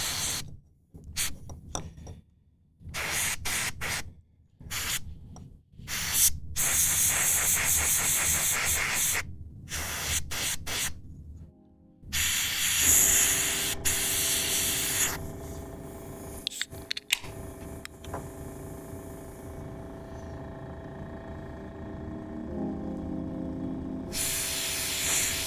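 Bursts of hiss from an airbrush or spray can applying paint to miniatures, with repeated short sprays and pauses, then longer steady hissing passes and a louder sustained burst near the end.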